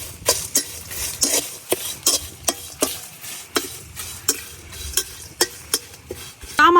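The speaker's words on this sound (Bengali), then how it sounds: "এখন এই সবগুলা শুকনা খোলাই ভালো করে ভাজা নিয়ে" Whole spices with a torn bay leaf and dried chilies are dry-roasted in a pan, with rhythmic sharp scraping strokes of a spatula and light rattling of the spices repeating steadily at close range.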